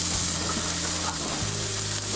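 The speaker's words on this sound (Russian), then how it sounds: "мы сейчас жарим, будем жарить рыбу" Fish sizzles steadily on a Weber Genesis II E-410 gas grill, a close, dense frying hiss with a low hum beneath and a couple of faint clicks, no voices.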